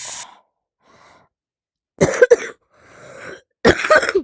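A sick person coughs close to the microphone during a first VR session, two rough bursts of several hacking coughs separated by breathy pauses and a faint throat sound.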